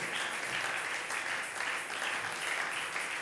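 A church congregation claps hands steadily and continuously, a dense, even wash of applause filling the room with no one speaking over it.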